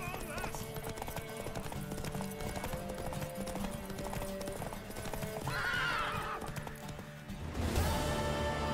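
Hooves clip-clop steadily at a trot, then a horse lets out a loud whinny in The Witcher 3; voices talk over the ongoing hoofbeats.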